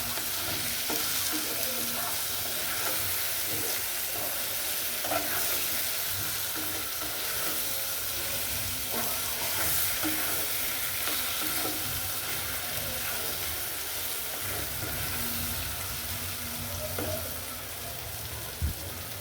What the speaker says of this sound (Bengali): টমাটোটা একটু ভেজে নেব পেঁয়াজের সাথে